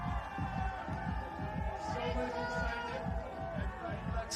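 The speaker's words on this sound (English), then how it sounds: "The crowd's getting louder and louder" Crowd cheering and shouting support at ice climbing championship lead finals, a loud continuous roar of many voices with rhythmic clapping or stamping throughout.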